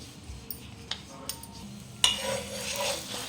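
An aloo paratha is laid into ghee in a pan, bringing an abrupt loud sizzle that continues as a steady hiss, preceded by a few light clinks of utensils.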